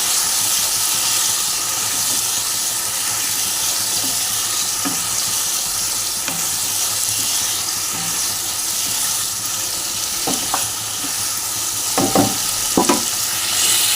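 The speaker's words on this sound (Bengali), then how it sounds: "জলটা টেনে গেলে ভালো করে কষিয়ে নিয়ে এর মধ্যে আমি জল ঢেলে দেবো।" Katla fish curry masala frying in a pan with potato and ridge gourd, a steady loud sizzle and hiss throughout, with occasional scraping stirs and spoon knocks near the end.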